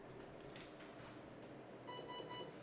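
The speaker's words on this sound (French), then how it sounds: "on a 3 bips" Three short electronic beeps from an airsoft replica connected to an 11.1 V LiPo battery sound in quick succession near the end, thin and high over a low, steady background hum.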